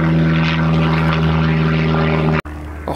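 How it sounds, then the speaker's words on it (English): A propeller airplane passes overhead during a cricket match at Goodwood, a loud steady engine drone with strong low harmonics that fills the clip before cutting out abruptly near the end. "Another plane goes over the top."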